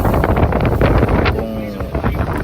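A passenger boat's engine runs at sea during a trial at a 60-knot setting, a loud continuous drone buried under heavy wind buffeting on the microphone, with a faint voice in the background.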